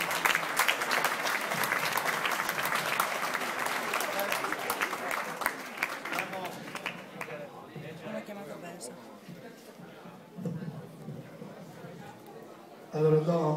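Audience applause at a disco gala in Abano Terme, steady clapping from a crowd for several seconds that dies away into murmuring and talk.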